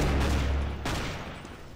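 Counter-Strike: Global Offensive gunfire, a loud close burst of game shots with a sharp crack near the middle and a decaying tail, no talk over it.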